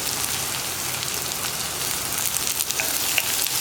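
Onion, chillies and ginger sizzle steadily in a hot pan, a continuous close hiss of frying with faint occasional stirring crackles and no voices.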